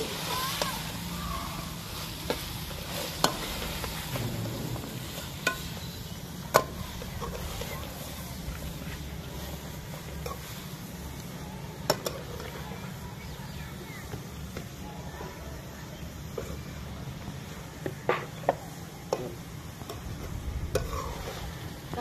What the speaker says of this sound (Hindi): अब हम इसके अंदर बंद गोभी जो हमने काटी हुई है उसको थोड़ा थोड़ा करके ऐड करेंगे